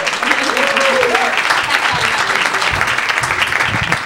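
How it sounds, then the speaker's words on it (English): Audience applause for a stand-up comic as he takes the stage, steady dense clapping throughout with a loud crowd and some voices mixed in. "you're clapping, but you don't know me"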